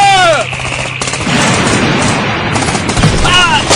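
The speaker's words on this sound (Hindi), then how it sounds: "टैंक के नीचे फायर करो।" Rapid machine-gun bursts and gunshots ring out in a war drama as troops fire beneath a tank, loud and close, with a shouted order and swooping whistles around the volleys.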